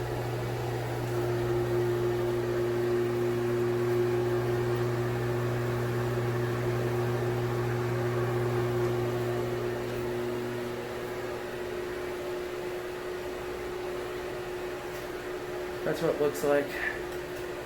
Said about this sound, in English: It's kind of a buzzy fan. It's got the impeller and the shaded pole motor.